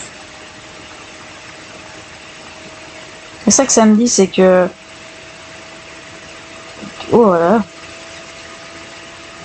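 A connected smartwatch vibrates strongly, giving a steady close buzzing hum that runs throughout while a person speaks briefly in French over it twice.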